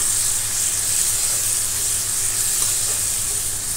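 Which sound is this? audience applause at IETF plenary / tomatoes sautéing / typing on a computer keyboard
tomatoes sautéing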